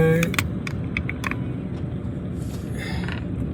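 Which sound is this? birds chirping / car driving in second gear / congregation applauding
car driving in second gear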